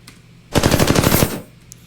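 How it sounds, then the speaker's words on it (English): A rapid string of redesigned bullet whizzes from Apex Legends crackles past in a tight burst lasting under a second, loud and sharp against quiet, with no talking. "So I applied that here to these bullet whizzes."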